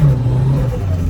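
A Mitsubishi EVO V RS on a spiked-tire icy road gives a brief, loud, close engine drone, a low steady growl that shifts slightly in pitch.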